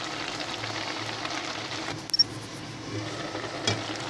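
Spinach and prawns simmer in a pan, giving a steady low sizzling hiss throughout, broken by a couple of brief faint clicks of a utensil.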